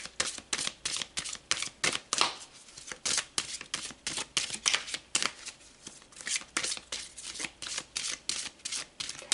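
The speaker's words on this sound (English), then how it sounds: "So let's pull some more cards." A deck of tarot cards being shuffled repeatedly, a rapid series of crisp riffling bursts in an even rhythm, close and clear with no voices.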